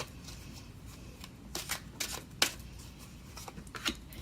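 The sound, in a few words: tarot cards being shuffled for a reading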